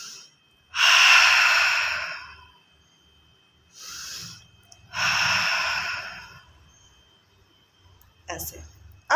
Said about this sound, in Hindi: लंबी गहरी सांस लें और हा की आवाज़ करते हुए छोड़ें, इससे रिलैक्सेशन होगा।